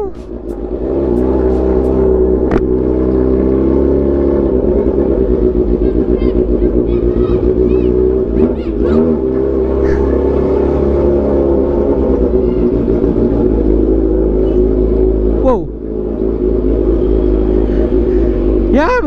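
Sport motorcycle engines rumble loudly and continuously, rising into revs and falling back twice before settling again into a throaty idle.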